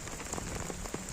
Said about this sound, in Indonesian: ini hujan bisa dibilang hujan ringan dekat ke menengah ya